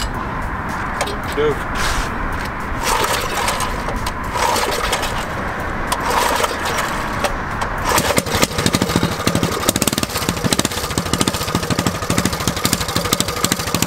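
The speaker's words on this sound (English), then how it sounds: "it's finally time to bring the twin engine mini bike back to life" An AWD twin-engine mini bike runs nearby with a loud, buzzy small-engine drone that turns choppy and rattling partway through, its pulses quickening into rapid revving.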